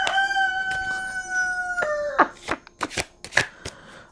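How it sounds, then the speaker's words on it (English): A cockerel crows once in a long, drawn-out call nearby, followed by sharp shuffling and slapping of tarot cards being handled; no speech. "Oh, these cockerels."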